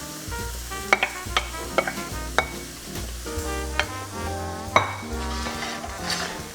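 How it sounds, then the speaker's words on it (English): Ground beef frying in a pan with celery, onions and garlic for sloppy joes, a steady sizzle under repeated sharp clinks and scrapes of a utensil breaking up the meat, close and fairly loud, with no voices. "And again, you just wanna continue to break up your hamburger."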